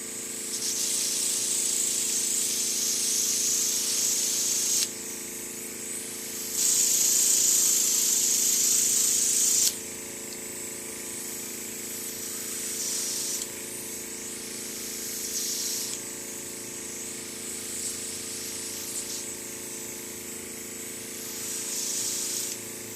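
An airbrush sprays blue makeup onto an eyelid and crease, a steady close hiss in bursts of several seconds, with two louder, stronger bursts and brief easing between passes.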